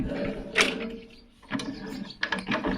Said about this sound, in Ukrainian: Вмикаємо передачу будь-яку.